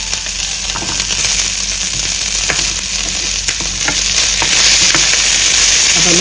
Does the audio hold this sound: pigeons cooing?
no